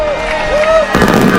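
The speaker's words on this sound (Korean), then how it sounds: "1억 명이 지켜보는 신년 불꽃놀이" New Year fireworks burst over Sydney harbour, a brief, loud blast of crackling bangs against a dense crowd roar, with a voice audible before the burst.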